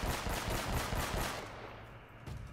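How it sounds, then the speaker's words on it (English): Rapid bursts of automatic gunfire ring out in Uncharted: Drake's Fortune, loud and close, a steady rattling volley that tapers off into quieter ambience before a final shot. "I'm still getting shot at"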